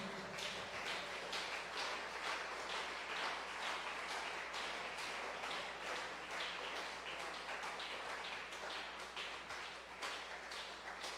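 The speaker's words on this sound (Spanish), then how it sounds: "¿Y por qué no le da un aplauso en esta noche, por favor?" A church congregation at an evening service applauds together, a steady, dense wash of clapping that stays fairly even and moderately distant for the whole stretch, with no voices standing out.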